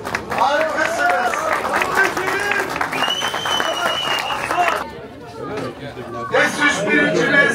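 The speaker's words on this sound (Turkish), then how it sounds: "Alkışlar F4 şampiyonlarımıza" Applause and cheering from a crowd for the F4 champions at a PETLAS Türkiye offroad championship awards in Bulancak, clapping under a loud announcer's voice, briefly dipping before swelling again.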